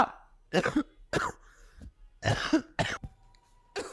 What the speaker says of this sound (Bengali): আমার হঠাৎ খুব কাশি হচ্ছে